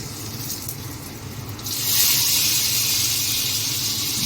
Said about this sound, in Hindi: कड़ी में लग रहा है तड़का